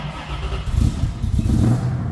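A 1973 Ford Mustang convertible with an electric fuel pump idles and revs close by, a steady low engine rumble swelling louder in the second half.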